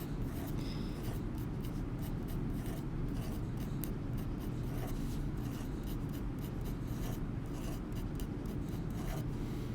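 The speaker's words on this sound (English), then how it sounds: "I'm going to write quite a few things here" A pen scratches across paper in quick, continuous strokes while notes about the phospholipid bilayer are written out, close up and fairly quiet with no talking.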